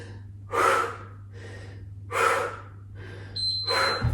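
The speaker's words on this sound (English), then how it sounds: "Noisy exhales." Three loud, forceful breathy exhales come in a steady rhythm during a yoga HIIT workout, each a strong rushing burst, with a faint electronic beep near the end and a low hum underneath.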